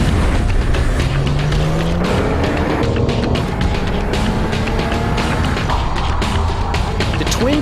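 A twin-turbocharged V6 car, compared against an Audi V8, accelerates hard through 0 to 60 and quarter-mile runs, giving a loud, continuous engine roar with rising revs and rushing wind noise throughout.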